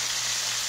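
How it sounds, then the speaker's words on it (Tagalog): Fish frying in a pan for breakfast, a steady close hiss and fine crackle of hot oil sizzling without pause, with no talking. "Prito tayo ng isda."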